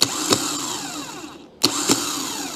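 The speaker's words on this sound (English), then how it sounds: "it actually started throwing over. So now we should throw over." A Holden HK car engine cranks over on its starter in two bursts, each a loud close whirring churn with rhythmic pulses, separated by a brief silent gap.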